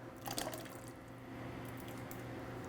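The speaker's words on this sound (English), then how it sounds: "going to get a little more water in this jar" Water running from a kitchen tap into a jar that held crushed tomatoes, a steady faint stream with a few small splashes near the start, nearby and alone.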